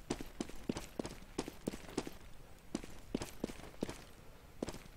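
Footsteps on the Counter-Strike map de_nuke during a tournament match, a run of quick, sharp, uneven steps at moderate distance over faint background noise.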